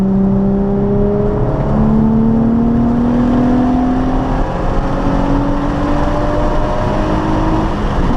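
A Nissan 350Z sports car engine revs hard and climbs steadily in pitch through one long third-gear acceleration, loud and close, with a rising whine over rough engine noise.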